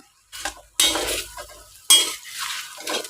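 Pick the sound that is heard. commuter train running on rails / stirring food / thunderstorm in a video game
stirring food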